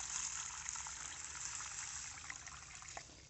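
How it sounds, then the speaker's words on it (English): Water poured onto horse gram seeds in a container, a steady trickling, splashing flow heard close up and continuous for a few seconds with no talking. "Yeah, I've added water."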